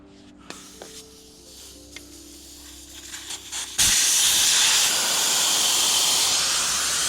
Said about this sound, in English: I got the valve stem removal tool for the Schrader valve. So I'll just go in and unscrew it.